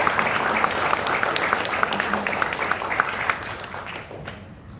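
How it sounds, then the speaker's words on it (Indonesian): An audience at a closing speech event applauds with dense, steady clapping throughout, moderately loud and slowly tapering off toward the end. "Kita berikan aplaus dulu semuanya."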